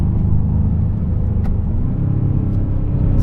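An Aston Martin DBX707 2025 super SUV with the exhaust in medium sport mode pulls steadily along a Hakone road, its deep engine rumble constant and close, with no talk over it.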